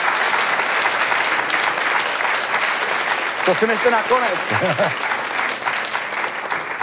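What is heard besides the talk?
audience applause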